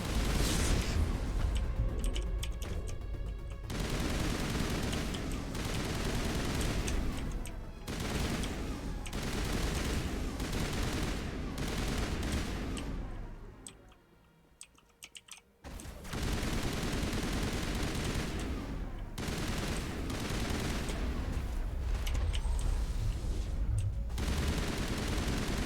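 Rapid bursts of gunfire from a Mass Effect firefight, dense and loud with sustained automatic volleys and booming hits, dropping briefly to near quiet midway before the shooting resumes just as heavily.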